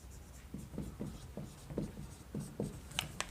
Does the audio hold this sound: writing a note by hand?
yes